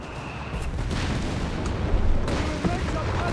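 Grenades burst in a Company of Heroes 3 battle among infantry, a few deep booms and sharp pops rising out of dense gunfire and rumble, with a voice talking over the action.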